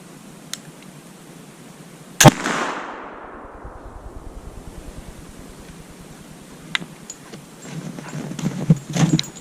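A .50 caliber black powder flintlock rifle loaded with 60 grains of 2F, a 385 bullet and 4F priming in the pan fires one sharp, loud shot outdoors. The shot trails off into a long fading rumble, followed by light clicks and handling noise.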